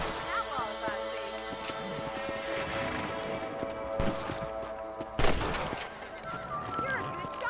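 Rifle shots while hunting rabbits in the Western video game Red Dead Redemption, with scattered sharp cracks, one louder blast near the end, over steady game music and ambience, with voices talking.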